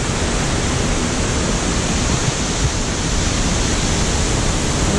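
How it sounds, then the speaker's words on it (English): The waterfall beside the Graskop big swing roars as a dense, steady rushing wash of water, loud and unbroken throughout with no voices. "You'll see behind me, you'll see the waterfall that you swing across."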